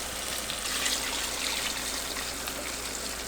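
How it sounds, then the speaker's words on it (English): Water pours steadily into a soup pot for Belizean chimole, a continuous close trickling stream with no talking. "So I'm just going to get more water to fill this up to about 3/4 of the way."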